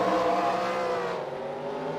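Race cars circling a track during a racing broadcast, engines droning steadily at mid distance with a harmonic whine that eases slightly after the first second, no talk.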